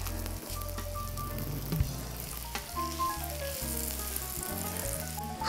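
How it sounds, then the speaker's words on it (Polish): Steady crackling sizzle of vegetable flatbreads frying in a small amount of oil, with a low background hum and a few soft pops and clinks. "Smażymy. Nie smażymy zbyt długo, gdyż potem będziemy odgrzewać jeszcze te placki"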